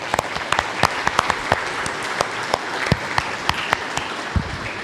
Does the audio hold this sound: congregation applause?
yes